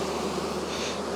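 Honeybees buzz in a dense, continuous drone, close and loud throughout, while a beekeeper works on a hive.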